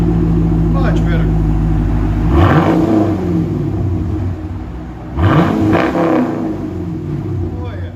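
A Chevy Camaro SS with a 6.2L V8 and Flowmaster Super 10 exhaust idles with a deep rumble, then revs sharply twice, each rise followed by a falling settle back to idle, loud and close.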